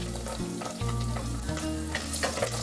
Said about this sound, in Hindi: प्याज भी जो है वो ट्रांसलूसेंट हो गया, इसको फ्राई नहीं करना ज़्यादा।